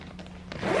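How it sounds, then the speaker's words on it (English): The zipper on a Louis Vuitton canvas bag with vachette leather trim is pulled, a few short soft rasps followed by a longer, louder close-up zip at the end. "So what you need to do next is just close open the zipper"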